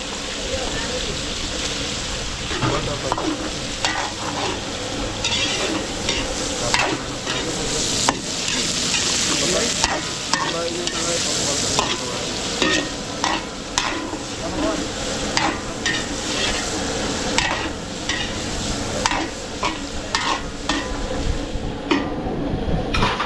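Garlic and onion sauté in oil in a large pan for beef kaldereta cooked outdoors for a garden wedding, a loud dense sizzle with constant scraping stirs and clanks, a voice speaking briefly over it.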